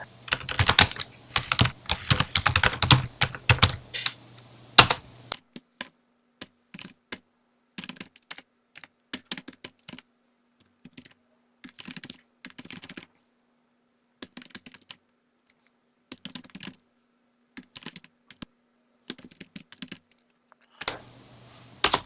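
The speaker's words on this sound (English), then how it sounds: "I'll type this through, but I'll speed it up slightly in the final video." Someone types a shell script on a computer keyboard: a dense, fast burst of clicking first, then irregular short runs of keystrokes with pauses between, close and clear with no talking.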